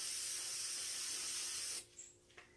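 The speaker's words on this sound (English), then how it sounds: "I could just do the wipe-on adhesive, but I prefer the spray." A can of spray adhesive for gold leaf hisses in one continuous, steady burst for nearly two seconds, close and fairly quiet, then cuts off and leaves faint handling noises.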